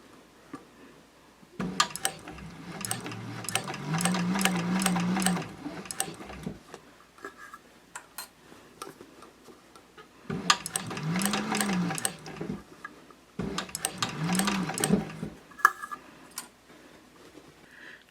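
A sewing machine stitches binding onto fabric at a 4.0 stitch length, running in three sustained bursts separated by pauses, with a close, steady whirring hum and rapid rhythmic needle clatter.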